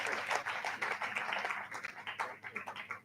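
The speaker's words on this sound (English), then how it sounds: "Round of applause for that." Applause from an audience at a Brownsnigeria Gridiron Gems Initiative launch event, a short burst of dense clapping that quickly thins out and fades, with voices mixed in.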